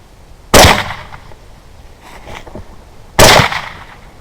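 Two sharp rifle shots ring out during a hog hunt, about two and a half seconds apart. Each is loud and close with a short echoing tail, and there is a faint, softer report between them.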